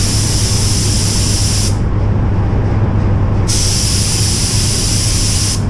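A compressed-air gun blows dust off new car body parts before painting, giving two loud, sharp hissing bursts separated by a short pause over a constant low workshop hum.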